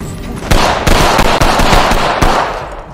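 Rapid bursts of pistol gunfire from an Apex Legends match ring out loud and close, several sharp shots in quick succession over a steady background of game ambience.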